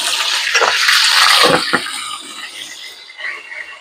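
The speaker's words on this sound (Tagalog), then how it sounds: "Whiskan nyo lang ng tubig yan." Whisking a mixture with water in a bowl for breakfast, a busy wet swishing and clinking that runs loud and continuous before easing into lighter scattered sloshes.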